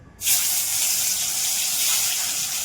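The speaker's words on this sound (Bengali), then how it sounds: "আর এদিকে আমি তেল গরম হয়ে গেছে, তারপরে আস্তে করে ছেড়ে দিচ্ছি।" Pangas fish pieces coated with turmeric and salt are slid into hot oil, setting off an abrupt, loud, steady hiss of frying that holds without letup.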